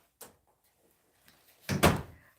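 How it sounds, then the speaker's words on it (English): A door is pushed shut indoors: a faint first knock, then a louder thud as it closes and latches, with a short ring-out. "let me close this door."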